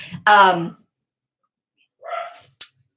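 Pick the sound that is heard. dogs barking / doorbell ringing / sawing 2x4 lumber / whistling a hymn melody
dogs barking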